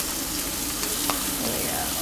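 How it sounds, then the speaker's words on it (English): Wagyu beef sears in a hot pan in a restaurant kitchen, giving a steady, fairly faint sizzle with a brief louder spatter partway through and no talk over it. "So this is a Wagyu. I'm gonna put it like sear them a little bit. Nice hot pan."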